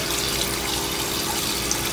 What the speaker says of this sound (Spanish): vamos a abrir el agua caliente